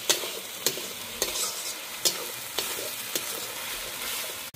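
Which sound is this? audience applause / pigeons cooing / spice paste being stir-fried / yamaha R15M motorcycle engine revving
spice paste being stir-fried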